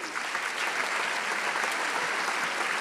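Audience clapping at a school ceremony at a county technology school, a dense, steady burst of applause from a crowd heard close and fairly loud for a few seconds.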